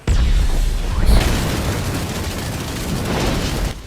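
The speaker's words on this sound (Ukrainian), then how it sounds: "Бум. Взрив." A video game finisher move ends in a loud, sustained explosion: a heavy booming roar that fills the whole few seconds and then cuts off abruptly.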